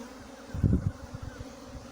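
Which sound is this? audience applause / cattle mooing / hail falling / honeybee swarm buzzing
honeybee swarm buzzing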